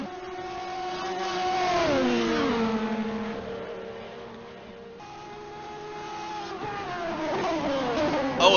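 Race car engines at Le Mans in a racing video game drone and whine through gear changes, pitch sweeping down then climbing again as cars pass through a curve, steady and fairly loud.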